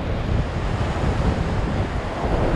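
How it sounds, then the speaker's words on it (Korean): Big sea waves wash in against a rocky ledge during sea fishing, a continuous loud roar of surf with wind buffeting the microphone throughout and no voices. "파도가 이제 큰 파도가 이렇게 지금 턱에 올려놨어요"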